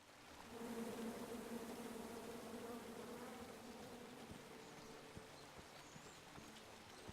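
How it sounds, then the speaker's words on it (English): Bees in the video game King's Quest (2015) drone in a steady, close buzzing hum that swells early and holds, over faint background rush, with a few light ticks later. "Come at me, bees!"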